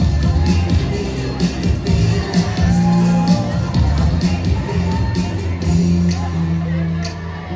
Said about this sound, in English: BINIBINING fans, cheer for your favorite BINIBINING!